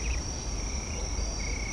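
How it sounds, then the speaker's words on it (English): Crickets drone at night in a thin, steady chirring that carries on continuously, faint and somewhat distant, with no voices over it. "and overall, the droning of the crickets."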